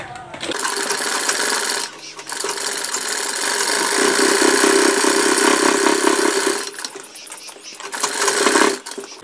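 An electric sewing machine stitches a collar onto a kurta in a loud, steady, close-up run with two short pauses, then a final burst. No one talks.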